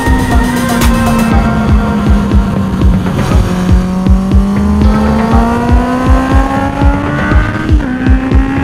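Steady motorcycle hum with rising engine pitch, including a 150 cc bike, as a group of about 15 motorcycles rides with other vehicles passing close by in a continuous stream of traffic noise.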